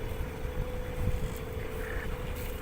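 A sailboat's auxiliary motor drones steadily at sea about 150 miles south of the equator, a constant low hum with a mid-pitched tonal whine over wind and water noise, with no talking.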